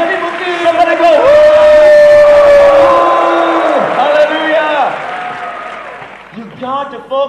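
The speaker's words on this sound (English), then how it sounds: "Come on, give God a big clap." A church congregation claps and cheers for God during a bilingual English-Indonesian sermon, loud sustained crowd applause with whoops and shouts over music, fading slightly toward the end.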